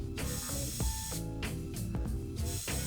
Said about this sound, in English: it should spray out Lysol.